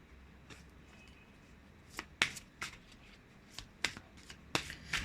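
Wisdom Oracle cards get shuffled in a quiet room, with a few crisp riffling snaps spaced irregularly over a low steady background hiss, close to the mic and no speech.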